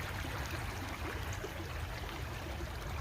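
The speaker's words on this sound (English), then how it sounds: "Look at this water as it beautifully drifts down." A cold stream flows and trickles steadily, a soft, even wash of water heard alone and fairly faint.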